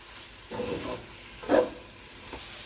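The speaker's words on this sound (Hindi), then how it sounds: "1 मिनट के लिए मैंने पालक डाल के फ्राई किया, पालक को सब्जियों के साथ।" Spinach stirred and frying with mixed vegetables in a pan, a short hushed sizzle with a couple of soft swishing stirs, one louder than the rest, fairly close with no speech.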